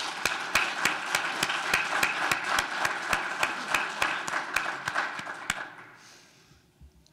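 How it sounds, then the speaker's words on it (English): Audience at a security conference closing ceremony applauding sponsors, a dense wash of clapping with sharp accents for about five and a half seconds before fading into near silence. "Can we just do a real quick round of applause for these?"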